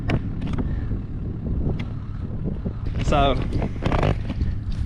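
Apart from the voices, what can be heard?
wind outdoors during a dove hunt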